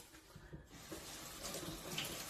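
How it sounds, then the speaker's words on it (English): Beets are rinsed under a running kitchen tap, the water splashing steadily and faintly into the sink with light rubbing sounds over it. "you want to be sure that you wash these up very well"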